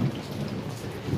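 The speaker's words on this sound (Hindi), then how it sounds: "बिन मौसम बरसात हुआ थे" Unseasonal rain falling in a village, a brief steady hiss of rain with a low rumble underneath, fairly loud and continuous with no voices.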